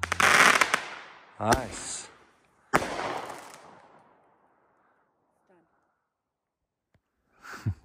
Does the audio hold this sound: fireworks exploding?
yes